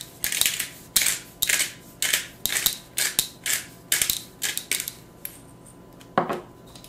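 Pepper grinder cracking peppercorns over a salmon loaf mixture, a dozen quick crunchy grinding bursts in an uneven rhythm, close and crisp with no talk.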